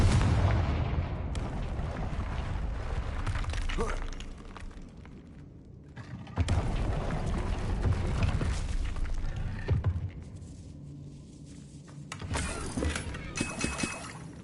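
Confringo fire spell explosions in the video game Hogwarts Legacy, a series of heavy booming blasts with rumbling tails, loud bursts broken by quieter gaps around the middle and near the end.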